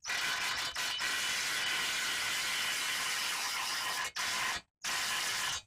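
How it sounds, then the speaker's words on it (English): A ratchet loosening a control arm bolt on a Chevy Tahoe, a loud close continuous rasping clicking that runs for several seconds with short pauses between strokes. "So now I'm going to loosen up that bolt"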